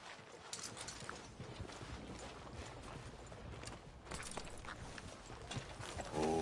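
Faint hooves clip-clop at a walking pace in Red Dead Redemption 2, a quiet steady patter under a soft outdoor ambience with no talk.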